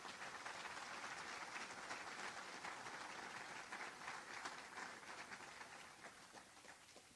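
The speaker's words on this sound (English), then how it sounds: "Please give him a round of applause" An audience at a county State of the County address breaks into sustained applause, a dense, even roar of clapping that slowly fades toward the end.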